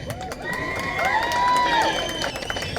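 A crowd at a jewellery store launch event cheers and shouts with whoops and some clapping, a steady mass of excited voices swelling in the middle and staying loud throughout.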